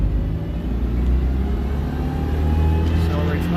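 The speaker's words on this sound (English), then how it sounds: "Accelerates nicely." A Citroen 2CV pulls away at full throttle, its small engine droning steadily and close, a continuous rumble that rises slightly in pitch as it accelerates with no talk over it.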